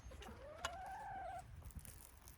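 A backyard chicken clucks once with a rising, drawn-out call, close but quiet, over low outdoor background noise.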